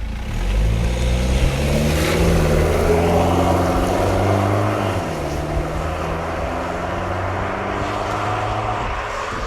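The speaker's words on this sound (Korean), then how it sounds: "디젤 차인데 저 정도까지 소리가 나오다니" A BMW 120d diesel car pulls away, its exhaust drone rising in pitch through the gears with a deep, loud rumble, then easing to a steadier cruise.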